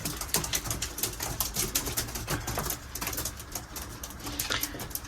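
Young racing pigeons make soft, repeated coos and wing flutters mixed with scattered clicks and scratchy shuffling, moderately quiet and close, with no talking.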